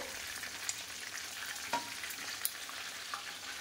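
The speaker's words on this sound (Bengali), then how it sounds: "তো চলো চিকেন পকোড়াটা ভেজে নিয়ে আসছি।" Chicken pakora frying in hot oil in a home kitchen, a soft, steady sizzle and crackle with a few small pops and a brief stir, heard faintly and alone.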